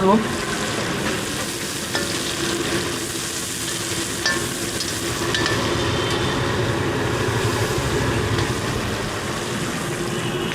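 Green beans fry in a pan while being stirred, during large-batch cooking for 150–200 people. A continuous close sizzle carries light scraping and stirring noises throughout, with no talking.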